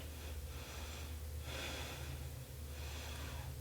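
Heavy, rhythmic breathing of a person holding a plank yoga pose: a few slow, deep breaths with audible nasal snorts and airy exhales, close and fairly quiet, no talking over it.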